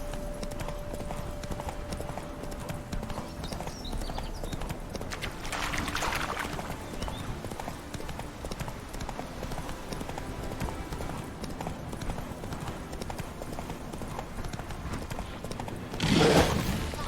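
Roach, Geralt's horse in The Witcher 3, gallops with rapid, steady clip-clop hoofbeats, close and continuous, with a brief whinny or rush of noise near the end.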